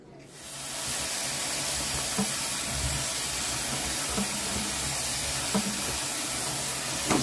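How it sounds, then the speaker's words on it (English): Candied watermelon rinds being drained in a kitchen sink, a steady hissing rush of water and liquid pouring for several seconds, with a few soft clunks and splashes scattered through it. "So I'm gonna drain my rinds."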